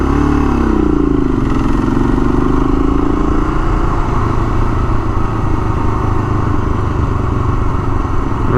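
An XL500 motorcycle ridden over gravel, its engine a loud, close, steady drone with a rough crunching rumble underneath, and a rising pitch early on as the bike speeds up. No one talks.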